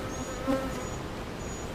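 Honeybees buzz steadily at an open hive during a mid-June inspection, a soft continuous drone close by with no talking.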